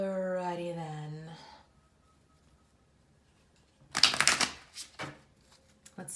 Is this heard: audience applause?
no